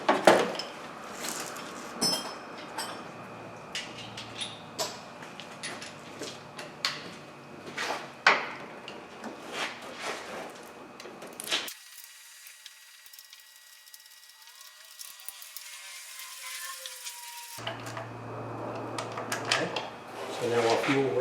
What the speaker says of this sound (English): And now that bolt for the fuel rail, I'm going to tighten it down.